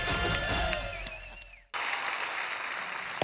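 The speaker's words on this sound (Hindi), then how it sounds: "जोरदार तालियां हो जाए।" Audience applause at a stage show during a Ganesh celebration bursts in loudly midway, right after a stretch of tonal music and voice, then holds as steady, dense clapping to the end.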